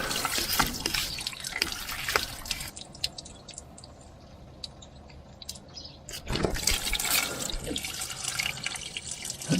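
Water pushed from a hose into the open drain hole of a broken-down 1953 David Brown DB30 tractor, with splashing and dripping running steadily, easing off midway and then surging louder again.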